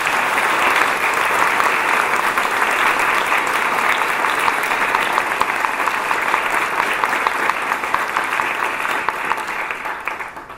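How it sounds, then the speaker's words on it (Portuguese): Sustained, dense applause from an audience honoring two choir conductors at a celebration, steady and loud throughout before tapering slightly toward the end. "A ambos os mestres, pedimos uma merecida salva de palmas."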